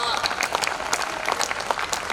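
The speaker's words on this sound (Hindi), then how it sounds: "इसमें कोई ताली बजाने की भी बात नहीं थी" Audience applause at a Hindi comedy and poetry show, a short burst of dense clapping from a crowd.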